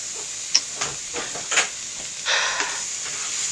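Diced stew ingredients sizzling in a pot over a makeshift closet cooking setup, a steady soft hiss with a few sharper crackles and pops, fairly faint and close.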